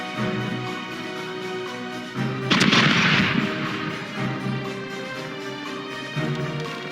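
Ship cannons fire a broadside in the pirate naval game Corsairs Legacy, a burst of heavy booming shots rolling together over steady background game sound, loud and fairly close, then fading back.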